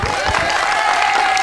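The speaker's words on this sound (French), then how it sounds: "la première demi-finaliste qu'on peut applaudir bien fort" A theatre audience applauds loudly and steadily for a singing-contest semi-finalist at a cinema venue in Labège, a dense wash of clapping with some cheering, continuous throughout.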